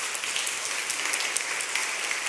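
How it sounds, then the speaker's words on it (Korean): A Korean church congregation applauds to welcome a first-time visitor, producing a steady wash of many hands clapping together at an even, moderate volume throughout. "한번 일어서시면 환영의 박수를 드리겠습니다"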